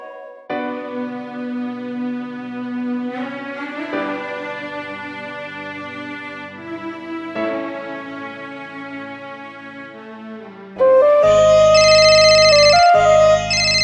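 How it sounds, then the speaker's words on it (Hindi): A melodic electronic ringtone plays a repeating tune, then grows louder and brighter near the end, with no voices. "गौतम का फोन।"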